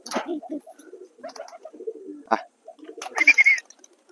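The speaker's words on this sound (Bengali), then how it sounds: "দেখুন দুটো পায়রা উড়ে গেল" A few soft pigeon coos and flutters come in short scattered bursts, ending with a brief louder flurry as two pigeons take off.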